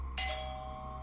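A doorbell in a house rings once with a bright, sudden chime that fades quickly into a quiet hallway.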